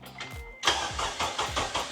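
A 2006 Acura TSX engine cranking and catching, a brief whirring crank followed by a sudden loud start that settles into a pulsing, rhythmic idle close by.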